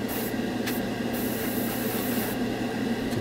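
An airbrush blows air over freshly applied acrylic model paint to dry it, a steady close hiss of air with slight fluctuations and a brief burst partway through, no talking.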